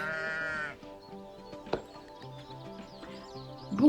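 A sheep gives a clear, drawn-out bleat, followed by a soft knock and quiet tonal sounds, then a fainter bleat right at the end.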